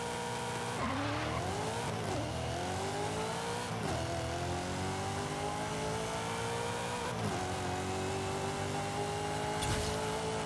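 A 1000 hp 2006 Mitsubishi Lancer Evo 9 with a drag tune makes a quarter-mile run in Forza Horizon 5, its engine climbing and dropping through several gear shifts, a loud continuous roar with no talking.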